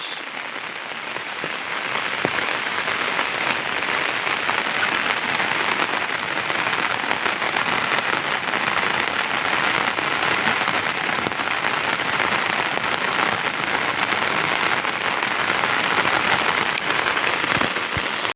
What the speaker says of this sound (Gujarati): વરસાદ ધોમ ચાલુ છે જુઓ